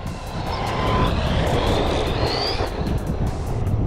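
An Arrma Kraton 4S V2 RC car driven at full throttle on concrete, its electric motor giving a loud, high whine that climbs in pitch as the car speeds away, with a continuous rough rumble.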